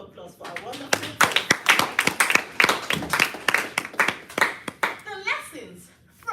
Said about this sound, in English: A round of applause for our wonderful